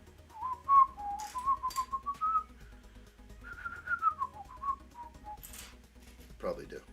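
A person whistles the Steamboat Willie tune, a bouncy melodic line of short and sliding notes up close, with a brief spoken sound near the end.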